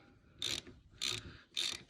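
Bolts are tightened down with a ratchet, giving three short, close, crisp bursts of clicking in an even rhythm with quiet gaps between.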